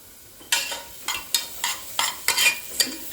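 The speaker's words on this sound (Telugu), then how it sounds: "కొంచెం ఫ్రై అవుతున్నాయి. లిటిల్ ఆయిల్ వేసాను కదా." Vegetables frying in a little oil in a home kitchen pan, with a soft steady sizzle broken by repeated scraping stirs at a quick, uneven rhythm, close and clear with no talk.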